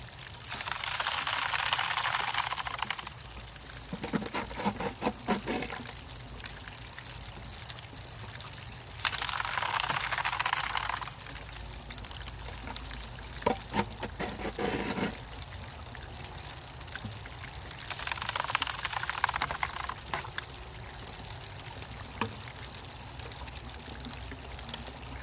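Water pours and trickles while washing dirt down in a gold pan, coming in several loud surges separated by quieter running flow and occasional gravel rattles.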